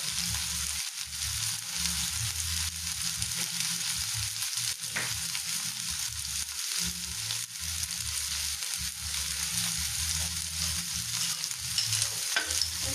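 Food frying on a low flame in a pan with a little butter, a continuous soft sizzle with repeated stirring and scraping scrapes running steadily throughout, no voices.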